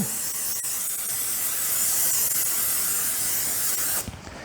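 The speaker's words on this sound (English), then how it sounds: "Now I've got a 9x5 loaf pan, and I'm gonna spray that pretty good." A steady, continuous hiss of cooking spray coating a 9x5 loaf pan, held for about four seconds, close and loud, cutting off sharply at the end.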